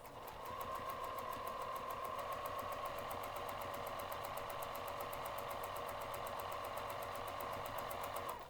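A sewing machine runs steadily for several seconds, stitching a zipper pocket onto a bag at a short stitch length, its fast, even mechanical chatter close and alone without any talk.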